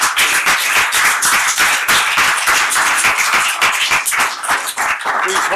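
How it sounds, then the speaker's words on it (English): Audience members applaud at a St. Louis County Council meeting, a dense run of hand claps that is loud and steady throughout with no talk over it. "Please hold your applause."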